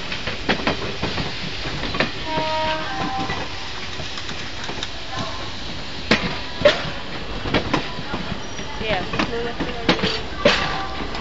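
Train of WAP4 electric locomotives passing at a station, a steady rumble with repeated clickety-clack wheel beats and clatter throughout, with people talking over it.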